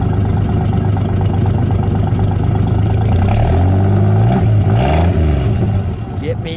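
The 225 Slant 6 in a 1972 Plymouth Duster rumbles loudly and close, rising in pitch as it revs up around the middle and then falling back. Its exhaust note stays rough and pulsing, and voices speak over it.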